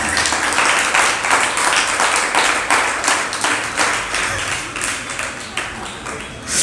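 An audience claps together in a hall, a dense, even round of applause that holds steady and loud throughout, rising again at the very end, with no voices over it.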